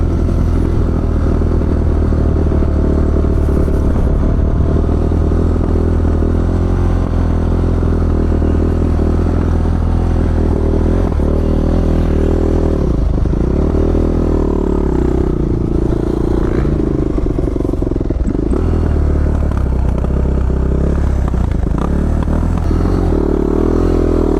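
Dirt bike motorcycles, including a Honda CRF450R, a 125 TSX and a Yamaha 450 YZF, ride through fields, their engines a loud, continuous close-up drone with rising and falling revs and no pause throughout.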